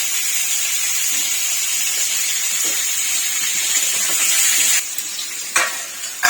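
Potato slices fry in a pan with a steady, loud sizzling hiss that holds throughout, with a few brief clatters near the end.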